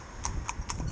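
Two competition driving horses walking as a pair, hooves clip-clopping in a steady, evenly spaced rhythm of about four close, crisp strikes, with low background rumble.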